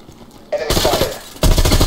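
AK rifle fire in Survarium comes in two close, loud bursts of rapid automatic shots, the second starting after a short gap.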